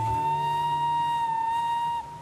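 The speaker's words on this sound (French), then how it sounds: "le petit train de la baie de Somme fait retentir son sifflet à vapeur" Steam whistle of the Baie de Somme tourist train, a steady sustained tone with harmonics held for about two seconds before cutting off, loud and alone.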